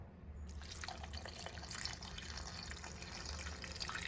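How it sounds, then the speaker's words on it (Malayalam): Water pours steadily into a cooking pot of mango curry, a continuous splashing trickle with no voices. "ഇനി ഇതിലേക്ക് ആവശ്യമായ വെള്ളം ഒഴിച്ചു കൊടുക്കാം"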